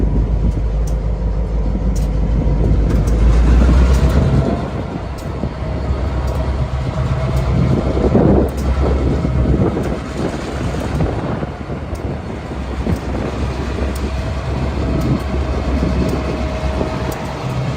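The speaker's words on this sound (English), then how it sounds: "the train is starting to pull up." A train rolls in with a loud rumble and rattling wheels in Lexington, Kentucky, accompanied by strong wind buffeting the microphone and an occasional metallic squeal.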